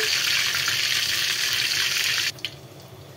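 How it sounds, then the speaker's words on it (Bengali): Bay leaf, whole cumin and dried red chili tempering in hot oil, making a loud, steady hiss that cuts off abruptly after about two seconds and leaves faint kitchen noise. "এরপর তেজপাতা, গোটা জিরা ফোড়ন"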